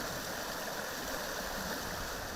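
The Palpala river flows near a park entrance, a steady broadband rush of running water that continues evenly throughout with no voices.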